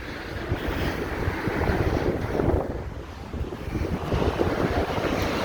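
Steady wind buffets the microphone on a riverside bridge in Nottingham, a continuous broadband roar that swells and dips in gusts throughout, with no talking.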